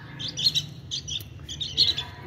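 Three baby red-whiskered bulbul chicks chirp in short, high, thin bursts, a few clustered calls at a time with brief pauses between, close by over a low steady background hum.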